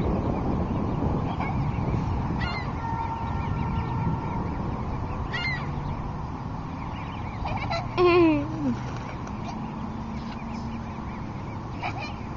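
Several geese honk repeatedly outdoors, with one loud, close call standing out over a steady background of distant honking and ambient noise.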